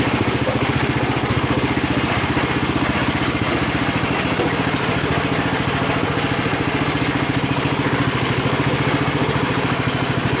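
A walk-behind two-wheel tractor with an articulated frame runs steadily while pulling a plough, its engine chugging loud and close in a continuous, even rhythm with no voices.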